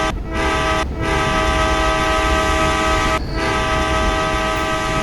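A train in the Indian Bike driving video game sounds its horn in a loud, sustained, tonal blast over rumbling rail noise, with a few brief breaks in the tone.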